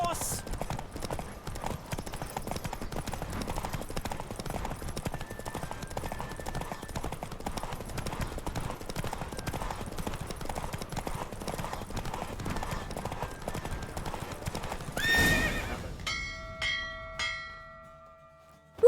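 A horse in The Witcher 3 gallops at full speed with fast, steady clip-clopping hooves under a game soundscape and a voice. A distant bell and a brief snort or whinny follow near the end as the pace breaks off.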